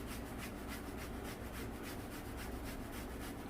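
Green bananas are ground for Puerto Rican sancocho with a steady, continuous rasping and scraping in fast repeated strokes, close and fairly loud, with no talking.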